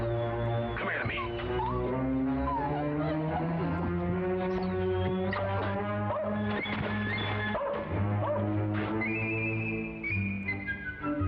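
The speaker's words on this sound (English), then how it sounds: "Nice puppy. Come on, puppy. Come on, puppy." A puppy yips and whimpers close by while being coaxed toward a bath tub, its short cries sitting over sustained musical tones that fill the whole stretch.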